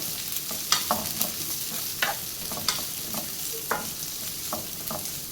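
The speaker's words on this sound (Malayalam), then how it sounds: "ഇതൊരു ഹൈ ഫ്ലെയിമിൽ വെച്ചിട്ട് നമുക്കൊരു 2 മിനിറ്റാണ് ഇത് വഴറ്റിയെടുക്കുന്നത്" Vegetables stir-fried over a high flame for chicken fried rice, with a steady sizzle broken by repeated scraping strokes of a spatula in the pan, close by and with no one talking.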